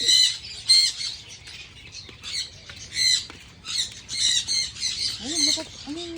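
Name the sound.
bird squawking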